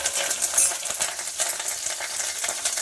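Spices sputter in hot oil as a sambar tempering is fried, producing a dense, even sizzle with scattered popping and occasional soft knocks from a stirring utensil.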